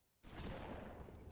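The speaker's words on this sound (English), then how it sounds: "he keeps on firing like every 2 seconds" Gunfire in the Halo 3 video game, a sudden burst of rapid shots that kicks in after a short quiet moment and continues at a fairly even, moderately loud level.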